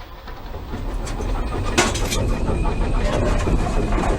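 A steam train runs toward Corfe Castle, top and tailed with a small LMS 1F locomotive and a second engine pushing at the rear, giving a steady, fairly loud rumble with a rhythmic chuffing and clatter throughout.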